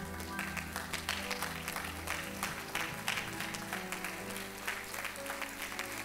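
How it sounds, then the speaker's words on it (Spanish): A church congregation gives a rhythmic ovation of clapping, fairly distant and mixed with sustained instrumental music underneath, steady for about six seconds. "Te invito a que te pongas de pie, le des una ofrenda de palmas a nuestro Dios."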